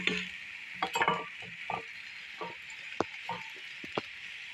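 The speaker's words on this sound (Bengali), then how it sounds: "দেখো কড়াইয়ের মধ্যে আমি লাউগুলো দিয়ে দেবো।" Pieces of bottle gourd go into a hot wok and fry with a soft steady sizzle, broken by a few clinks and scraping stirs, quiet and close.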